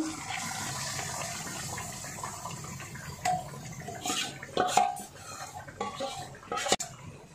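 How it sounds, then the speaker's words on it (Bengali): Raw chicken pieces go into a cooking pot for gravy chicken, making a few scattered wet plops and metal clanks against the vessel over a low kitchen background, with no talking. "আমার মা চিকেনটা ছেড়ে দিচ্ছে আর আমি ক্যামেরাটা ধরে রয়েছি"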